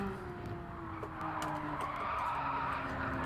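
Tires skid and squeal steadily as the rear of a tail-happy race car steps out in Gran Turismo 7, a sustained screech over engine drone lasting several seconds with no talk.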